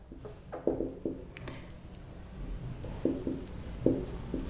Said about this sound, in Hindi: क्वेश्चन लिखता हूं